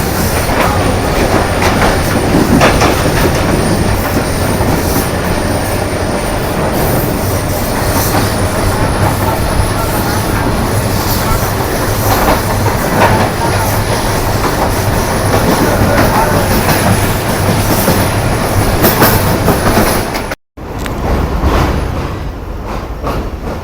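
Shah Latif Express train entering the Kotri Junction yard, a loud continuous rumble with rhythmic clickety-clack over the rail joints and faint wheel squeal, heard from aboard with a brief dropout near the end and no talk.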